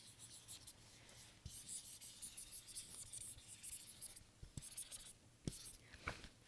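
A Frixion erasable pen writes and erases on paper, heard close up as soft, scratchy strokes in short bursts, with a few sharper scrapes and rubs near the end.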